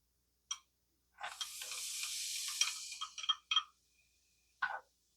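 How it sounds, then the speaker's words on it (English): Onions sautéing in melted butter in a pan, a steady broadband sizzle lasting about two seconds with a few stirring scrapes, then brief separate clatters near and fairly loud, with no talk. "So I start with quite a bit of butter and get that melted down. And we're going to saute some onions in that."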